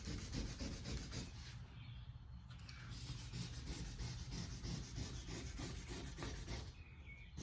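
Sandpaper roughing up a gelcoat surface on a boat hull during dock rash repair, a steady, close scratchy rubbing with rhythmic back-and-forth strokes continuing throughout, without speech.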